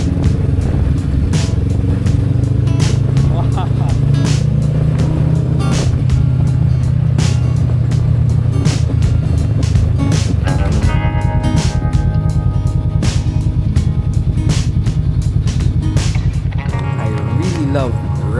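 A motorcycle rides along mountain roads at a gentle pace, its engine a steady close drone with shifting pitch under continuous wind buffeting, and someone talks over it.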